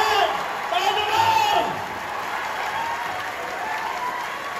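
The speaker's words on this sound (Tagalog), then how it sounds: "Yan ang palakpak na gusto magkaresulta ngayon." An audience at a gathering event claps and cheers loudly, the applause strongest at first and then easing into a steady lower patter, with voices mixed in.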